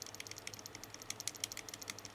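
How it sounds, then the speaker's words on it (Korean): Arrow keys tapped on a computer keyboard while navigating BIOS setup on a GIGABYTE Z790 AORUS MASTER X motherboard, a quick steady run of light clicky presses, close and fairly quiet. "키보드 방향키 아래쪽을 눌러"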